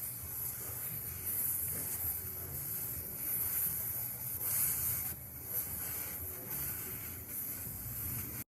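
Air escapes from the fork valve stem of a Yamaha R6 motorcycle in a faint, steady hiss that runs the whole time with slight swells, and no talk over it.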